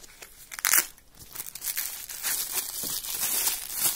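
Crinkly plastic packaging bag around a multitool knife being handled and rubbed, continuous close crackling and rustling with a louder crunch early on, no talk.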